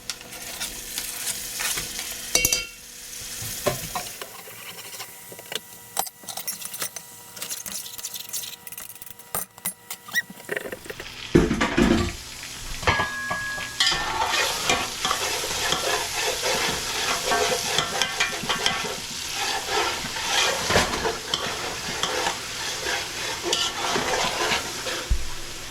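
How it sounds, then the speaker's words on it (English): Tomatoes frying in a pan for Bombay-style goat biryani, a loud continuous sizzle broken by repeated scraping and clattering of a spoon stirring, close up with no talking. "Okay, time for tomatoes to go in."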